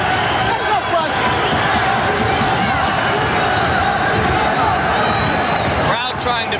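A boxing arena crowd cheers and roars continuously for Matthew Hilton, a dense, loud wall of voices and shouting that holds steady with a brief flurry of sharper noise near the end.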